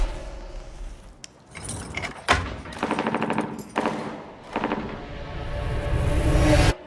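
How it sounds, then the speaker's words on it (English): Close gunshots ring out in a film scene, several sharp loud bursts and rapid volleys spread unevenly across a few seconds, with clattering metallic sounds between them. "Close gunshots."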